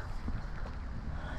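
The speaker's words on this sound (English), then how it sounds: "the wind is picking up," Gusty, picking-up wind buffets outdoors on a rainy day, a low rumbling rush that rises and falls with no talking.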